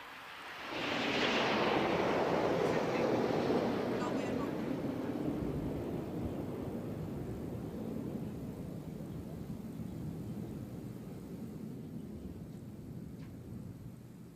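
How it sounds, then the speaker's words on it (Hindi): Hawk trainer fighter jets fly past at an aircraft carrier commissioning ceremony, with a loud roar that swells quickly and then slowly fades into a long, broad rumble as they move away. "और अब बारी है प्रशिक्षण के लिए उपयोग में लाए जाने वाले हॉक लड़ाकू विमानों की।"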